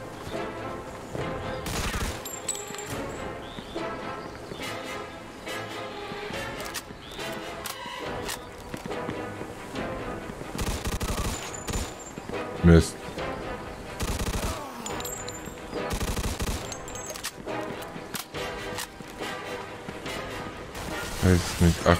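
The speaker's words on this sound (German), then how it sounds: "Ich habe keine Ahnung, wo die Schüsse herkommen." Gunfire in the video game Mafia II Definitive Edition, with bursts of shots and impacts mixed into a dense game soundscape of music and effects, with someone talking over it now and then.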